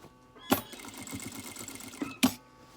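A sewing machine topstitches through a trouser waistband in a short, fast run of rhythmic needle clatter, framed by two sharp clicks from the automatic thread cutter, close and fairly quiet, with no voices.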